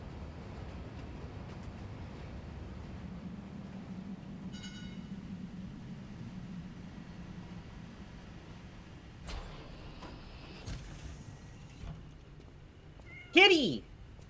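A cat in the video game Lies of P gives a single short meow near the end, rising clearly above a long stretch of low, droning game ambience.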